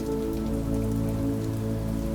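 Rain falls against a window in a steady, even patter, close and continuous over a low, constant hum.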